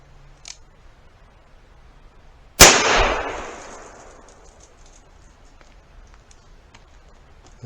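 A single sharp gunshot from a Colt Trooper Mark III revolver firing a .38 Special 158 grain lead semi-wadcutter load, loud and close, with a decaying tail in an otherwise quiet setting.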